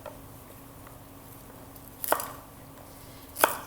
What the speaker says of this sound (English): we're just going to kind of cut off the florets, add them into the bowl with the cauliflower